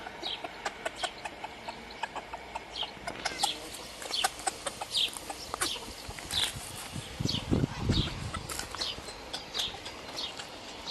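Several chickens cluck and squawk in scattered bursts, close by, with a rooster-like call rising briefly in the middle over farmyard background.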